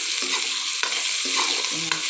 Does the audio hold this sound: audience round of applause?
no